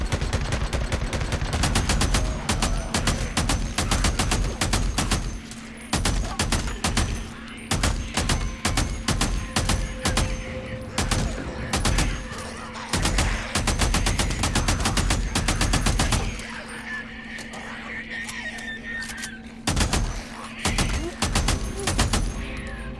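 Heavy automatic machine gun fire in a horde-clearing video game, long rapid bursts hammering loudly and continuously with short gaps, ending in a few separate bursts after a brief quieter stretch.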